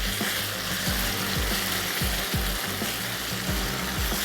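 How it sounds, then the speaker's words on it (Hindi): Potatoes frying in masala for aloo butter masala, stirred steadily with a spoon: a continuous close sizzle broken by repeated soft scraping strokes against the pan, no voices. "थोड़ा सा इसको और स्टर करते चलते हैं।"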